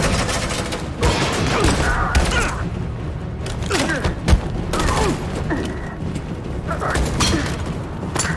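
Gunfire in Detroit: Become Human, bursts of shots and heavy booms breaking through a dense, chaotic battle din, with voices shouting throughout the scene.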